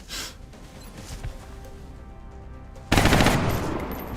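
A robot unit opens fire in XCOM. A short burst at the start is followed by a quiet lull, then a loud, sustained rattle of automatic gunfire breaks out near the end.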